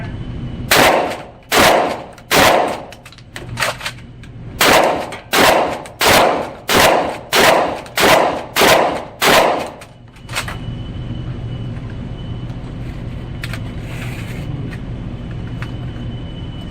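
Eleven loud shotgun blasts from a UTAS 15 12 gauge ring out in a fast, uneven string over about ten seconds, each one a sharp close crack, followed by a steady low rumble of background noise.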